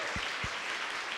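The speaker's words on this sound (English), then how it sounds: "Another round of applause." Applause from a live concert audience at Spotify HQ in New York, a steady, soft, distant wash of clapping with a couple of low thuds.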